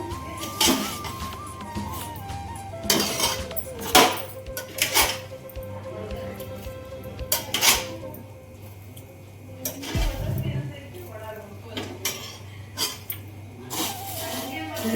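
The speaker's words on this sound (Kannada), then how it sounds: "ಮಂಡಕ್ಕಿ ಕಲಿಸ್ಕೊಳ್ತಾ ಇದ್ದೀನಿ ಹುಳಿ ಹಾಕ್ಕೊಂಡು" Spiced puffed rice being mixed with tamarind in a bowl by hand, irregular clattering and rustling bursts of metal-bowl contact scattered over the stretch, with a voice talking in between.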